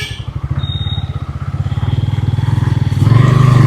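A 2026 Bajaj Pulsar N160 motorcycle with a single seat and a 2-valve engine is ridden along a road. The engine gives a close, steady, pulsing thrum that rises and grows louder toward the end, with no talk.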